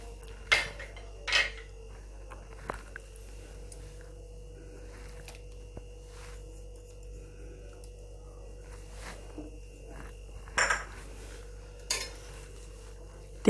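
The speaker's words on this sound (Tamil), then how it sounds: "தேங்காய் ஜீரகம் காய்கறியோட நல்லா மிக்ஸ் ஆகிற வரைக்கும் நல்லா கலந்து விட்ருங்க" A spoon stirs coconut-cumin paste into cooked vegetables in a pot, with sparse scraping clinks and taps spaced out over a quiet, low background hum.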